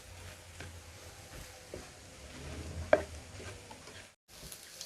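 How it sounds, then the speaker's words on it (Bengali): A spoon scrapes and stirs an egg dish with garam masala frying in a pan, giving soft, irregular scraping under a low sizzle, with one sharper clink of utensil on metal midway. "আবার সব কিছু ভালো করে মিশিয়ে 2 থেকে 3 মিনিট ভেজে নেব।"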